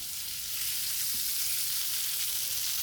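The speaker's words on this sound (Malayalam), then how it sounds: "ഇത് നല്ല രസമാണ് ചിക്കൻ വറുത്തത്" Chicken pieces fry in a pan with a steady, loud broadband sizzle that holds evenly throughout, with no talking.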